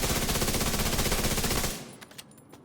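A FAMAS rifle fires a rapid automatic burst at a target 15 meters away in Division 2, a loud dense stream of shots that stops abruptly and leaves a few faint clicks and clatters.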